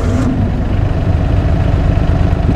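A John Deere Gator utility vehicle idles on a farm, a steady close-up low engine rumble that holds even and loud without revving.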